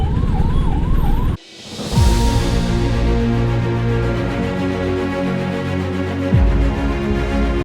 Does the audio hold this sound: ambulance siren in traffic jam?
yes